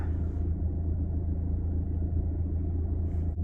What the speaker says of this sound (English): Someone just raced up into the space next to me and they were going so fast.